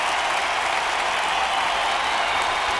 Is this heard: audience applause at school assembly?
yes